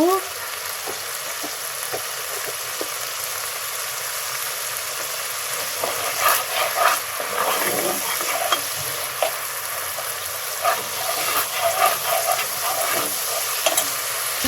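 Ginger-garlic paste fries in a pan for chicken curry with papaya, giving a loud, steady sizzle broken by repeated scraping and stirring strokes.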